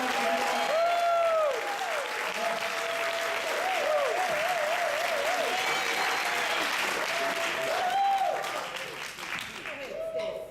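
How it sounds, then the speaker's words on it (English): An audience gives sustained applause at an evening motivational speaking event, dense clapping with some cheering voices rising over it before it tapers off. "Give her a round of applause."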